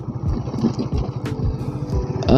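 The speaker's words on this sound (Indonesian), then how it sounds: "Gue lebih suka dan lebih menikmati suara dari mesin ini ketika gue gas" A Honda Sonic 150R motorcycle engine rumbles and revs steadily, close by, while riding, with a throttle blip rising sharply at the end.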